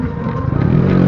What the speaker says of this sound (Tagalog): Marami na rin dumadaan dito, mga motor.